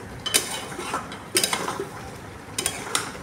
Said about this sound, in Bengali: দিয়ে আবারও ভালো করে এদিক ওদিক করে নাড়িয়ে নিলাম।